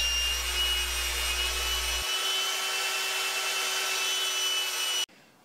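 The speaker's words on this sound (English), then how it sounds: "here we'll shape the dowels after we've turned it into kind of like a peanut body shape on the sander" A belt sander shapes wooden dowels into a rounded peanut-like form, giving a steady close grinding whine with a low motor hum that cuts out suddenly near the end.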